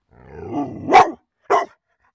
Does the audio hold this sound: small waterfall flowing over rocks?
no